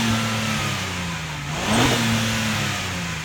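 A 2026 Acura MDX Type S with quad exhausts revs once, the engine note swelling briefly and then settling back to a steady idle, heard fairly close with no talking.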